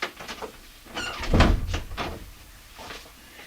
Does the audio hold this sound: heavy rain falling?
no